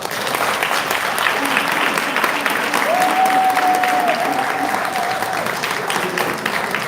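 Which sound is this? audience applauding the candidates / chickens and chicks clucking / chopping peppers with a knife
audience applauding the candidates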